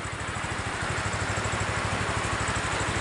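Steady, even putter of a restored Honda CB 125 motorcycle engine idling up close, a rapid regular low pulse holding constant throughout with no voices.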